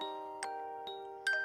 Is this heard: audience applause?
no